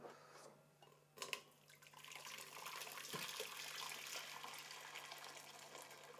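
Boiled water, about a liter, is poured into the bottom of a steam juicer used for melting wax. A steady splashing gush begins after a brief clunk and runs on continuously over a low hum.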